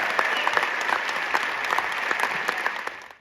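An audience at a Berlin film premiere applauds the film team of Gangubai Kathiawadi: brisk, dense clapping from a sizeable crowd, steady and even throughout before tapering off at the end.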